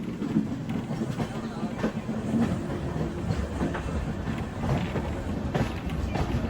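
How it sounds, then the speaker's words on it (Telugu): A passenger train on the Visakhapatnam to Araku line changes tracks, rolling steadily over the rails with a loud, continuous rumble and faint rhythmic clatter of wheels passing over track joints. "ట్రాక్ చేంజ్ అవుతుంది చూసారా? మన ట్రైన్ అలా సైడ్కి వెళ్తుంది."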